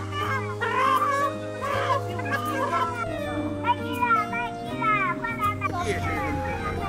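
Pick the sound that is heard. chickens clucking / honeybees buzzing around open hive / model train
chickens clucking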